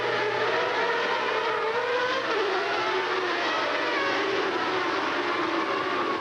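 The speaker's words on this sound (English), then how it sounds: "Quickly away, and it looks like Senna has the outside line as they fly down this long front straightaway." Formula One race cars from the 1980s accelerating off the starting grid, a dense, loud wash of high-revving engines rising in pitch together, continuous and close with no talking.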